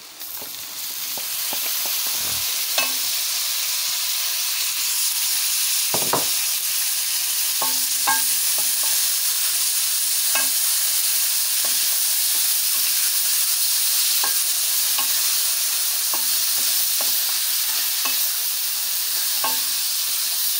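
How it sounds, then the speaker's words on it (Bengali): Chopped bitter gourd stir-fried in a pan with onion and garlic, a loud steady sizzle running throughout, punctuated by irregular spatula scrapes and clinks against the pan, no speech. "করলাটা ভালো করে আমি কষিয়ে নেব।"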